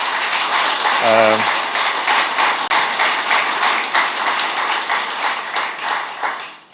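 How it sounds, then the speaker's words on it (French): A conference audience applauds the minister warmly, a sustained dense wash of clapping from many hands filling the room for several seconds, steady and close before tapering at the end. "je vous demanderai d'applaudir très chaudement Madame la ministre"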